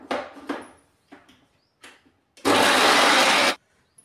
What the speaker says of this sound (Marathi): मिक्सरला वाटून घेऊया.